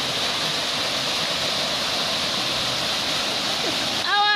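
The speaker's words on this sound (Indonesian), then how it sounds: "berhasil kamu menggapai Air Terjun Cinta" Rushing water of Love Waterfall (Air Terjun Noelaku) in TTS regency, a steady broadband roar that fills the whole stretch, with a brief chirp or whistle near the end.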